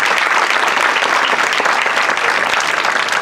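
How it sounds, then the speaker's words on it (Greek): Loud, dense audience applause at a Greek traditional music event on the island of Kythnos, many hands clapping continuously and evenly throughout with no talk over it. "Θα ήθελα ένα χειροκρότημα για τον Μανώλη."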